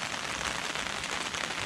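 Heavy rain falls steadily at a rainy campsite with a hammock and tarp, a dense, even hiss of drops with no pauses and no voices.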